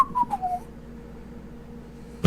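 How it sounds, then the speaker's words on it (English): A person whistles a short Mulian song tune, a few clear gliding notes that slide downward over about half a second, then silence before a sudden loud noise at the end. "I just begin whistling a Mulian song."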